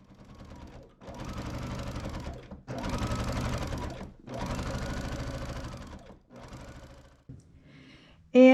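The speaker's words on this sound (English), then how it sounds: "And then I'll top stitch." A Baby Lock Jazz II sewing machine top stitches a quilt border in several close, steady bursts of rapid mechanical whirring, separated by brief pauses, with a short louder knock at the end.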